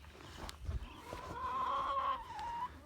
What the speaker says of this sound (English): I picked up a posse of chickens.